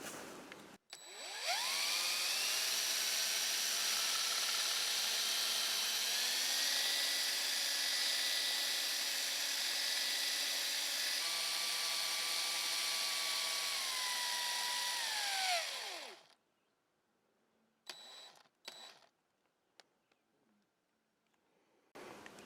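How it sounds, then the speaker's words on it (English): A DeWalt drill fitted with a small stir rod whirs loudly and steadily as it mixes thick cabin stain, with its pitch shifting in steps as the speed changes, then winds down, followed by scattered clunks and handling noises. "DeWalt drill with the little stir rod on there"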